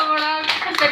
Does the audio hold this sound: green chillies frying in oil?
no